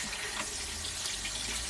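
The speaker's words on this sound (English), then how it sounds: "I'll just give them a quick rinse, though." Tap water runs steadily into a sink while vegetables get a quick rinse, a continuous close splashing stream with no talking.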